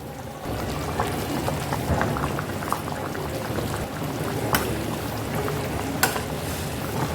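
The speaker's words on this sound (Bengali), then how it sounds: "এক মিনিট পর উঠিয়ে নিলাম আর দেখুন ফুটে গেছে" Katla fish curry bubbles and boils in a covered pan, a steady close simmering hiss with occasional louder pops and bursts, no voices.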